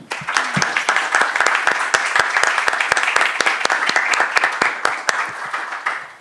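Audience applause at an academic law lecture, dense and loud, with sharp individual claps standing out above a continuous roar of hands, sustained for several seconds before tapering off at the end.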